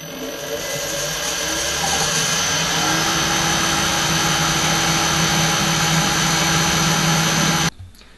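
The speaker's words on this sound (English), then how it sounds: "while being held together in an S shape, it's drilled through" Power drill boring a 4.2mm hole through two tracksaw trenching jig parts clamped together in an S shape, a loud steady whine running continuously for about eight seconds before cutting off abruptly.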